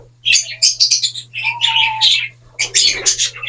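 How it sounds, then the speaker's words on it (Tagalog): Society finches chirp in quick, bright bursts of high tweets, close and clear, with a few short whistled notes and a steady low hum underneath. "society finches ayan parehas ano mga kaibon"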